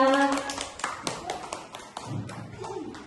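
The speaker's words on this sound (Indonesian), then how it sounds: "Tepuk tangan semuanya" A room of teachers clapping together at the end of a classroom presentation, brief irregular hand claps and taps mixed with voices, fading after a few seconds.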